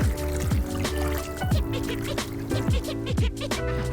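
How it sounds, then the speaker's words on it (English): Pork ribs are rinsed in water in a kitchen, with light splashing and trickling over a steady tonal background. "I'm going to rinse them in some water."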